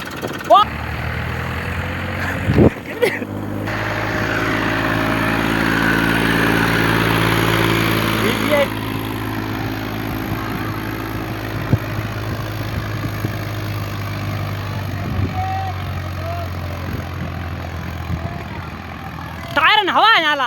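A tractor engine with a trailer hitched runs steadily at idle, a low rumbling drone that holds for most of the stretch, with brief clunks near the start and end and no talk over it.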